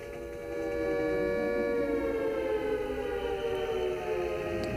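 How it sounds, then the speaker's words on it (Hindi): Civil defense sirens wail steadily during a drone attack attempt in the India–Pakistan conflict, several layered tones holding long rising and falling pitches, loud and continuous with no voices. "तो ये सायरन्स की आवाज़ है जो कि सुनाई दे रही है।"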